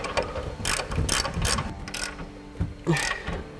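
A ratchet with a 24mm socket tightens the upper mounting nuts while a 3-inch control arm leveling lift kit goes onto a Chevrolet Silverado 2500. Several loud bursts of rapid clicking follow one another, separated by brief pauses and a few metallic knocks.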